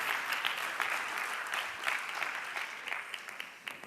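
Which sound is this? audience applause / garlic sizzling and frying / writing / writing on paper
audience applause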